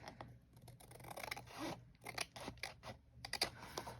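Scissors snip and trim a sheet of paper, a run of short crisp cuts and scrapes up close, with light rustling of the page between strokes.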